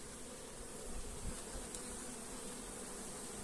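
A dense, steady buzz of many honeybees swarming close by, continuous and loud with no voices.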